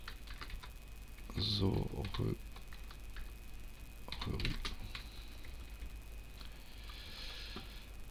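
Typing on a computer keyboard, with a couple of short bursts of clustered key taps and faint scattered clicks in between, heard up close in a quiet room.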